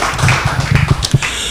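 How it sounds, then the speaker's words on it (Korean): Scattered hand claps from a church conference audience welcoming a pastor to give a congratulatory address, a short burst of taps and claps at close range. "다시 한번 우리 큰 박수로 환영해 주시기 바랍니다."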